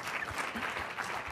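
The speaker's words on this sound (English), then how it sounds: "You can clap for them." An audience claps in a brief, dense spatter of applause at a talk introducing startup co-founders, moderately faint and without voices.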